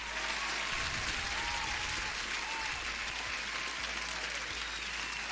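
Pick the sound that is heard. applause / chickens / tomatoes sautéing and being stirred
applause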